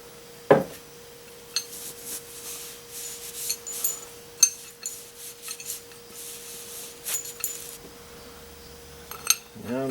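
Cloth rag working oil over a salvaged cast-metal bench vise, giving intermittent scuffing rubs and small metallic clicks and knocks, fairly close and quiet over a steady hum.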